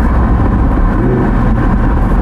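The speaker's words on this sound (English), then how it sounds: "let the car decelerate a little bit, hit the brakes, and then listen to the exhaust, blop, blop." An Audi R8 Spyder V10 rolls along while decelerating with the top open, its engine and exhaust making a continuous loud vehicle roar with no distinct pops standing out.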